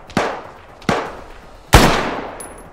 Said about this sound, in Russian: Вот это кто стреляет?